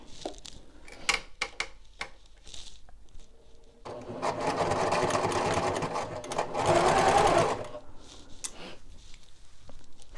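A sewing machine stitches fabric for a Christmas craft project along a quarter-inch seam: a few light taps, then one steady, fairly loud run of stitching lasting several seconds before it stops.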